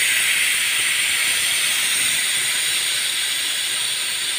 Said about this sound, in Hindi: अब इसका प्रेशर हम जो है निकालेंगे